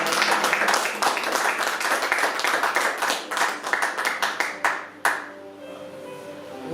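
A church congregation claps together in a dense burst of applause that thins into scattered, slowing claps before fading, with a voice speaking faintly underneath.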